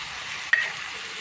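Yam and potatoes are stirred in a frying pan during fasting-dish cooking, a steady soft sizzle with one quick scraping stir partway through, close and without voices.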